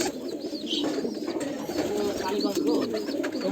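Several pigeons coo continuously in a low, throaty chorus, with chirpy bird calls scattered above and a busy, close-up loft atmosphere.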